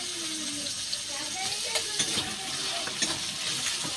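Chopped tomatoes sizzle and fry in a pan with ginger, garlic and onion, with soft continuous crackling and scattered scrapes and clinks as the mixture is stirred.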